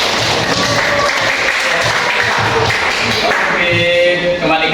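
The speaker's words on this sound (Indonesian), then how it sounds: "tepuk tangan lagi kedua kalinya" A teacher-training class in Indonesia claps for a second round, fairly loud mixed clapping with some thuds and voices underneath.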